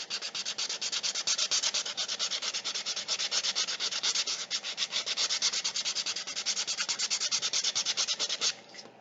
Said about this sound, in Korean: 자, 사포로 한번 문질러 볼게요.